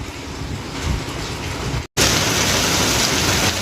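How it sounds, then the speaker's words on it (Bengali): Steady rain falls in an all-day downpour, a constant dense hiss that drops out for a split second midway and returns louder, with no voices. "দেখুন শুধু আজকে সারাদিন কীরকম বৃষ্টিটা হচ্ছে, একভাবে সকাল থেকে বৃষ্টি হচ্ছে।"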